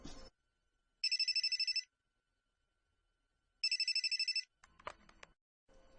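A telephone rings twice in two bursts of rapid electronic trills, loud and close, with short gaps of silence around them, and brief clattering noises follow near the end.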